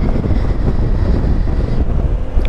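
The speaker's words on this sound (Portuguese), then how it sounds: "está um vento do capeta e está um frio do cão" Heavy, constant wind buffeting the microphone of a rider on a 2022 Honda Forza 125 maxi scooter, a loud low roar that fills the whole stretch with no speech.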